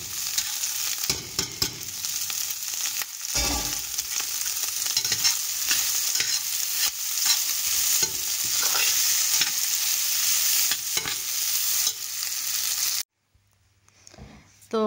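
Boiled pasta being stirred into eggs in a pan, a steady scraping and sizzling that continues for several seconds before cutting off abruptly, with only faint background sound after.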